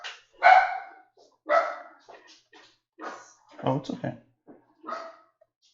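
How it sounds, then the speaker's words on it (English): Small yappy pet dogs bark in short sharp bursts at close range indoors, with several yaps spaced across the moment while someone speaks briefly over them. "if you hear the dogs barking"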